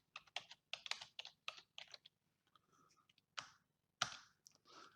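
Someone types on a computer keyboard, producing quiet, close, quick key clicks in uneven bursts with a short pause between them and no talking.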